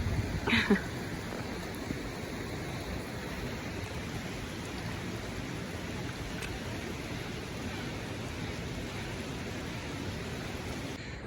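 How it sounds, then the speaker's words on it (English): Final waterfall section below Lake of Glass on the Alpine Lakes Loop in Rocky Mountain National Park: a constant, even rush of falling water, moderately faint and unbroken, with a brief knock near the start. "It's the final waterfall section leading up to Lake of the Glass"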